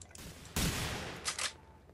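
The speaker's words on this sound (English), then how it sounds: "What are you shooting at, dude?" Gunfire from The Hidden video game: one loud, close shot is followed by a short ringing tail, then two quicker, fainter shots. No talk over them.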